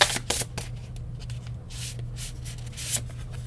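A tarot deck of animal guide cards being shuffled up close, with bursts of riffling and rubbing card noise at the start and again near the end, quieter sliding in between.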